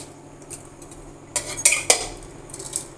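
A spoon stirs cooked Dehradun rice seasoned with salt and a little sugar in a metal pot, giving a few quick scrapes and clinks clustered in the middle, close and moderately loud over quiet background.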